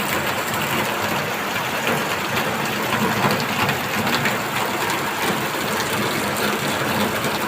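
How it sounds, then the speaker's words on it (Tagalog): Heavy rain pours down at night around three in the morning as a dense, steady, loud roar that fills the whole stretch without letting up. "Quarter to 3, saka bumuhos ang ulan guys."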